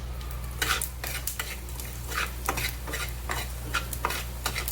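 Whole coriander seeds roasting in a little oil in a pan, giving a soft continuous sizzle broken by repeated scraping and stirring strokes, close and fairly quiet.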